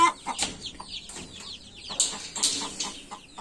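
Rapid high-pitched peeping from a chicken chick, repeated short cheeps in a quick irregular series, close and fairly loud, with some clucking behind.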